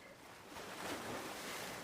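Waves wash steadily onto a sandy beach, a broad hiss of surf that swells slightly partway through and stays even, with a little wind on the microphone and no talking.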